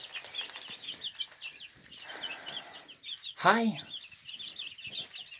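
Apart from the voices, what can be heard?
chickens clucking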